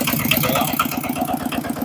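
An engine on a Chinese-made machine with a radiator that needs constant topping up runs steadily at a fast, even idle, close and moderately loud, with rhythmic mechanical knocking and no talking.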